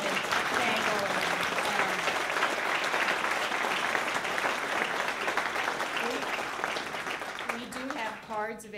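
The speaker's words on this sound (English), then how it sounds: "I don't think we should wait for a round of applause, actually" Audience applause for a panel at a talk on fighting modern-day slavery and human trafficking, a dense steady clapping that fills the room throughout and tapers near the end as a voice begins.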